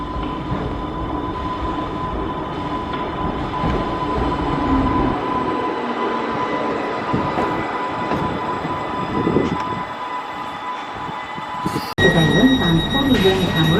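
A former London Underground District Line train, modified by Vivarail for the Island Line, rumbles steadily along with a constant hum and rattling wheels, growing briefly louder near the end; no talking is heard.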